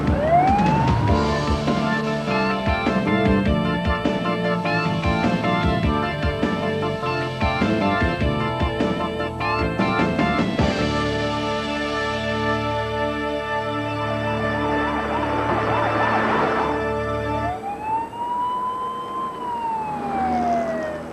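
An ambulance siren wails loudly and continuously, its pitch sweeping up and down in a repeating cycle, with a different rising and falling siren tone taking over near the end.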